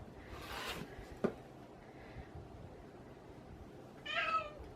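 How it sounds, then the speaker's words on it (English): A hungry pet cat meows twice, a soft drawn-out call and a clearer meow a few seconds later, nearby over quiet room noise with a brief scrape between. "That's my cat."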